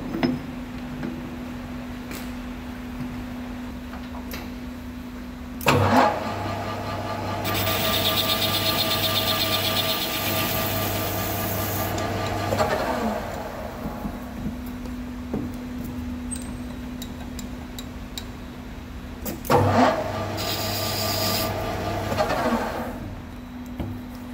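A metal lathe faces both ends of steel pieces for shop-made bearing mounts, its motor holding a steady hum while two bursts of harsh, scraping cutting noise rise over it.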